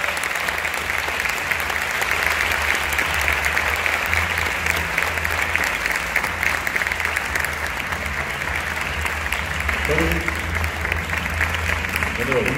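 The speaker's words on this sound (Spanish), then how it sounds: "os pido, por favor, un aplauso enorme para el gran Toni Segarra." A conference audience at an advertising creativity round table delivers a long, loud, steady round of applause for Toni Segarra, with a voice briefly audible near the end.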